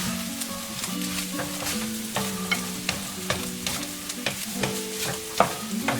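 Fried rice with eggs sizzles steadily in a pan while a utensil stirs and scrapes through it in repeated sharp knocks, close and moderately loud, with no voices.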